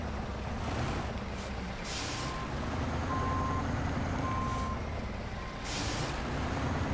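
A truck in a snowy driving game reverses, its backup alarm beeping in a slow, evenly spaced series over a loud diesel idle, with short bursts of air brake hiss.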